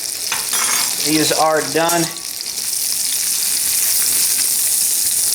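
Brined pork chops sizzle loudly in hot fat in a pan, a steady crackling hiss throughout, with a short spoken remark near the start.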